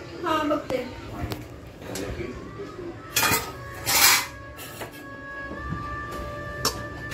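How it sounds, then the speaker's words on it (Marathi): Sheera being served from a pot onto a plate at home: sharp metallic clinks and scrapes of utensils against dishes at irregular intervals, close and fairly loud, with someone talking throughout. "सो आता मी शिरा पहिले प्लेटमध्ये काढून घेते"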